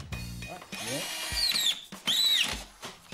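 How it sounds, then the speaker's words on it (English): A power drill pre-drilling holes in MDF board, with short whirring bursts that rise and fall in pitch, separated by brief pauses, close by and loud, with some talking in between. "pre-drilling is important to avoid splitting the MDF"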